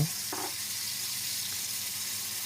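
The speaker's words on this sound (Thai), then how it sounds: "จากนั้นก็ผัดคลุกเคล้าให้เข้ากันเลยครับ" Bean sprouts with chicken blood, oyster sauce, seasoning powder, light soy sauce and sugar stir-fry in a pan, a steady close sizzle with a couple of faint scrapes, no voices.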